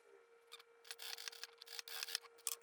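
Sharp fabric scissors snip quickly through cloth while a two-tone raglan dress is sewn, a run of close, crisp cuts in irregular bursts, faint and alone.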